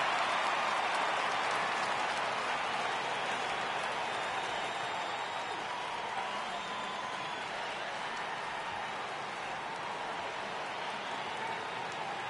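A baseball video game crowd in MLB 18 keeps up a steady, dense roar of cheering and applause throughout, loud and unbroken, with no clear talk on top.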